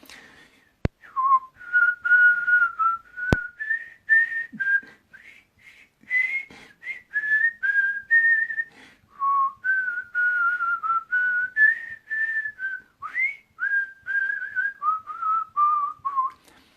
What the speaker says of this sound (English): I'm going to whistle a bit of music for you